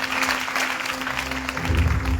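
A church congregation at a revival testimony festival claps for the Lord Jesus, steady applause with a sustained hum running beneath it and a deeper rumble building toward the end.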